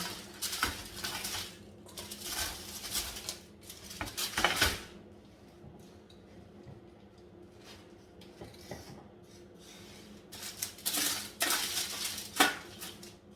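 Oven-baked gizzard is scraped and spooned into a pot of spicy sauce, with clattering metal utensil and pan clinks in scattered bursts and quieter stirring between.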